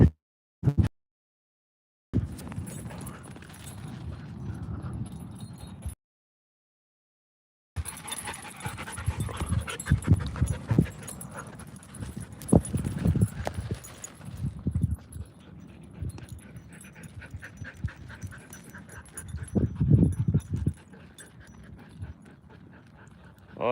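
Dogs pant heavily and scuffle while playing tug-of-war, with thumps and clattering paws in close, loud bursts separated by brief silent gaps.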